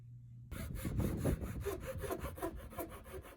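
Hand saw cutting thin wood strips for kumiko lattice, a steady rhythmic rasp of back-and-forth strokes, close and fairly loud, starting abruptly after a brief quiet moment.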